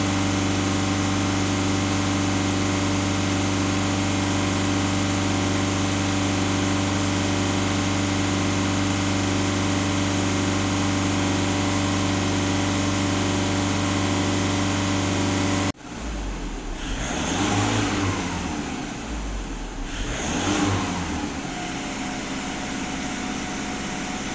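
Diesel engine of a VW Passat B7 running steadily near 3000 rpm with a constant droning hum, then the tone breaks off and gives way to rougher, shifting engine sound with rising and falling swells.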